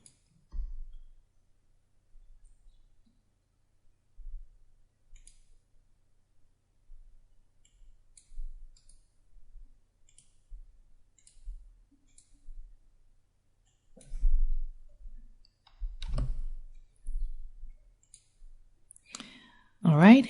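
Computer mouse clicks sound while working in design software, coming as sparse single and double clicks spread across the stretch, close and crisp, with a voice starting at the very end.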